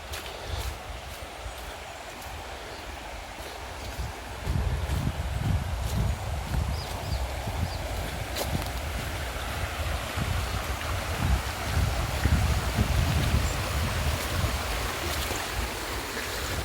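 A river runs through the Rivelin valley in autumn with a continuous rushing wash of water that swells noticeably after the first few seconds and stays fairly loud, with no talking.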